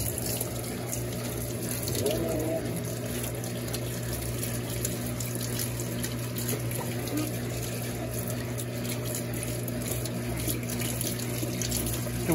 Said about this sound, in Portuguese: Eu vou ligar aqui pra fazer a centrifugação intermediária